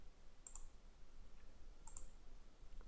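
Two quiet mouse clicks in SketchUp, each a short crisp tick, about a second and a half apart, over a low steady room hum.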